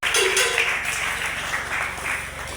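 Applause from mourners at a memorial tribute for a deceased mother, a dense burst of clapping that starts abruptly and carries on steadily, fairly loud and close.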